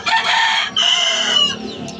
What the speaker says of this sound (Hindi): हमारा मुर्गा खुला हुआ है, अभी मैं आपको दिखाती हूँ।